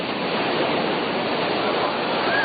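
Ocean surf at Sunset Beach with an 8 to 10 foot swell, a dense, continuous roar of breaking waves and churning water, loud and steady throughout.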